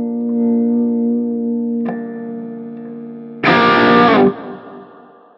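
Electric guitar plays through a small rock pedalboard, a clean sustained chord ringing out, a second strum, then a loud burst of heavily distorted chord that stops abruptly and fades into reverb.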